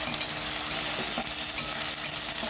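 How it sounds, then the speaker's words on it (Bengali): Garlic paste being stirred into chicken curry in a pan, a continuous close sizzle with a few soft scraping strokes from the stirring. "তারপরে হচ্ছে রসুন বাটা, তারপরে নেড়ে নেবো।"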